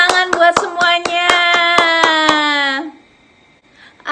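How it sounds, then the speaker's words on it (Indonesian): Children at an online Sunday school clapping hands in a quick, even rhythm of about nine claps over a sustained cheering tone, loud and close, then fading into near silence. "Yeay, tepuk tangan buat semuanya."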